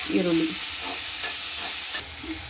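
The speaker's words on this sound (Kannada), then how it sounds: "1 ಚಮಚ ಎಣ್ಣೆ ಹಾಕಿ ಅದಕ್ಕೆ ಒಂದು 4 ಈರುಳ್ಳಿನ ಸಣ್ಣದಾಗಿ ಕಟ್ ಮಾಡಿಕೊಂಡಿದ್ದೀವಿ. ಅದನ್ನು ಅದರಲ್ಲೇ ಹಾಕಿ ಹುರ್ಕೊಬೇಕು." Finely chopped onions fry in a spoonful of oil in a pan, giving a steady close sizzle with faint scraping stirs. The sizzle drops a little in level near the end, and no one talks.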